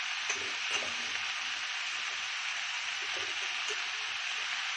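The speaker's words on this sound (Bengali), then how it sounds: "আমি এতে মাশরুমও অ্যাড করে দিচ্ছি, কারণ মাশরুমটাও আমাদের পেকে যাবে, পেঁয়াজের কলির সাথে ভাজা ভাজা হয়ে যাবে" Mushrooms frying together with onion stalks in a pan over high flame give a faint, steady sizzle, with a few soft stirring scrapes and clicks.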